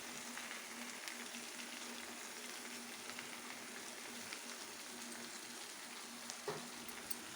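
Soaked poha is tossed into a pan of sizzling tempering, giving a soft, continuous frying hiss with faint stirring scrapes and occasional small pops throughout.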